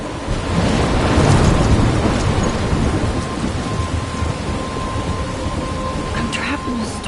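Thunderstorm in a PS4 video game near a lighthouse: heavy steady rain with low rolling thunder rumbling throughout, loud and continuous, with a few faint higher clatters near the end.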